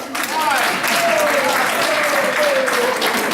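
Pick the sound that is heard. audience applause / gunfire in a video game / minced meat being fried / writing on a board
audience applause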